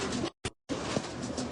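Pigeons coo indoors in a room, soft throaty calls broken by a brief gap, heard close and fairly clear.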